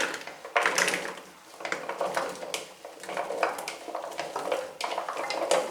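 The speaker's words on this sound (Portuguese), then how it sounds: "Vou colocar a abóbora aqui na panela de pressão." Chunks of pumpkin are dropped and shifted into a metal pressure cooker pot, giving a run of close, uneven clattering and knocking thuds with no talking.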